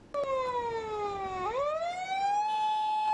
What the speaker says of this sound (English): An ambulance rushes to a blast scene barely 5 minutes after an explosion rocked the city's busy